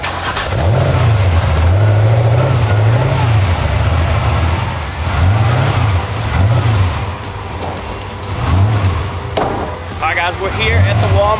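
A Ford F6 truck's engine drives along, a loud mid-pitched rumble that rises and falls in repeated revving surges, close by, with voices talking over it.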